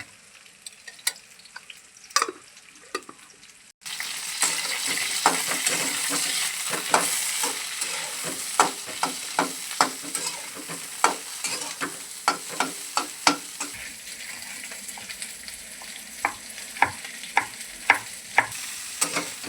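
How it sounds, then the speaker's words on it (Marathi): Stuffed okra and brinjal fry in plenty of oil. After a quiet start, a loud, close sizzle kicks in, and a spatula repeatedly stirs and scrapes the pan in sharp taps. "मस्त तेल टाकू ना, जास्त तेल टाकायचं, चांगला परतून घ्यायचं, मऊ होते."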